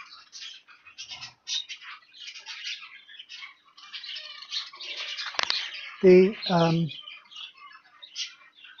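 Busy high-pitched chirping and squawking from several small caged breeding birds, a cock bird and hens, runs throughout, with a voice speaking briefly near the end.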